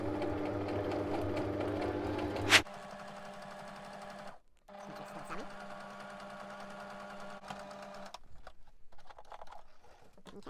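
A sewing machine hums steadily as it stitches around the edge of a fabric-covered board for a French board folio, then stops, leaving quieter handling noises.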